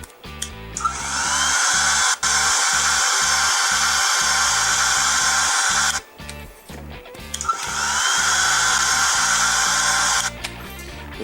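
A simulated vacuum cleaner sound from a mobile phone app plays as a loud, steady synthetic whine in long stretches, cutting out briefly twice with rhythmic pulsing underneath.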